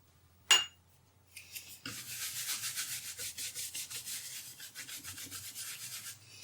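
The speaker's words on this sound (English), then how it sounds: "So I'm going to put a bit more of that paint on and build up that texture a bit more." Paint being rubbed onto a Japanese woodblock to build up a grassy texture: a steady, close, scratchy rubbing in fast repeated strokes after a brief tap, continuing alone without talk.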